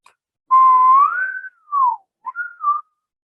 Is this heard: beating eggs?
no